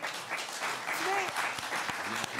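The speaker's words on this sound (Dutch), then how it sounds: "Ik wil een hartelijk applaus voor..." An audience at a local politics gathering breaks into warm applause, a broad wash of clapping with a few distinct claps near the end, while a voice speaks briefly over it.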